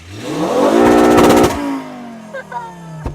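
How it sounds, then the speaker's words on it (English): A five-cylinder Mk2 car engine revs hard against the rev limiter, a loud, buzzy, pulsing roar that holds for about a second before the revs drop away into a fading idle, followed by a few faint clicks and a short knock. "Check out this rev limiter though."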